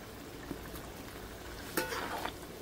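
A pot of shrimp curry with mango bubbles and simmers, a soft, low bubbling sizzle with occasional brief spoon clinks and scrapes, quiet and close, no talking.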